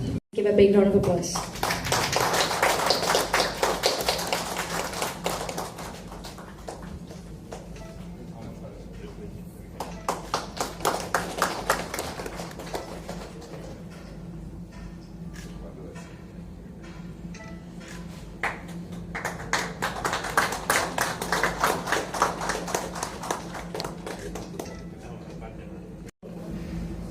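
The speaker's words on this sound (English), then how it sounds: "Give a big round of applause." Audience applause at a hospital ENT department inauguration: bursts of clapping from a gathered crowd that rise and fall three times, moderately loud in a reverberant room, with voices speaking between and under the bursts.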